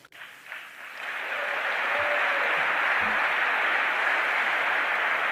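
Clapping from a crowd in a played recording, a dense, steady wash of applause that swells within the first second and holds evenly to the end.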